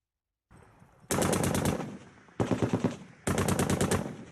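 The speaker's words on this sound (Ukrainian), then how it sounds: "Страшно звідусіль чути постріли." Three bursts of rapid automatic gunfire on city streets in Sloviansk, loud sharp cracks in quick succession with brief pauses between, after a faint opening rumble.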